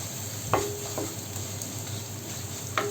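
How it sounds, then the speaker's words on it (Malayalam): Chopped carrots and beans being stirred in a pan, with soft continuous sizzling and a few brief spatula scrapes and taps against the pan, close but fairly quiet. "ഇതിനി നന്നായിട്ടൊന്ന് ഇളക്കി യോജിപ്പിക്കണം"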